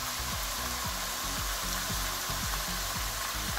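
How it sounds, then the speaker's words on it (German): Garlic cloves and tomato paste fry in a pan for bacon lasagne, giving a steady close sizzle with no talk over it. "Die beiden Knoblauchzehen. Die können wir kurz mit anbraten oder anspitzen."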